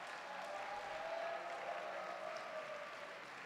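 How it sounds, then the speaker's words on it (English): Sustained applause from an assembled chapel audience for the cross-country team, a dense, even wash of clapping that holds steady throughout at moderate distance. "So let's give a hearty round of applause to the cross-country team."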